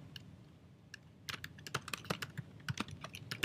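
Quick bursts of typing on a computer keyboard as an album title is entered, crisp close key clicks in irregular clusters that grow busier toward the end, with no talk.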